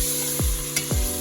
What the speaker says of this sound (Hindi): इसके अंदर ऐड करना है ginger garlic paste and beef और फिर इसको अच्छे से मिक्स